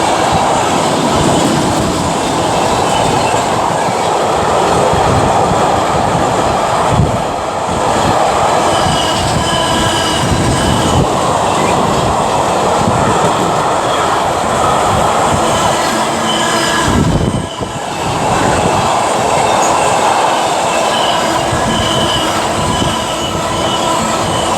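A Freightliner locomotive-hauled train rolls steadily through Stafford station on the West Coast Main Line, loud and continuous rumble with wheel noise throughout, briefly dipping twice.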